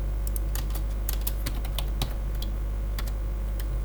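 Rapid typing of PHP code on a computer keyboard, with irregular clusters of crisp key clicks close by over a steady low hum, and no voices.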